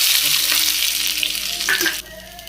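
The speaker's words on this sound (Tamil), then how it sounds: "நல்லா ஆனியன் இந்த மாதிரி ரோஸ்ட் பண்ணதுக்கப்புறம்" Chopped onions frying in hot oil for vada curry, a bright continuous sizzle with scraping stirs in the pan, loud and close, easing off near the end.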